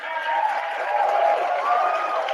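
An audience applauds and cheers in a steady wash of crowd noise lasting the whole stretch, with many voices mixed into the clapping.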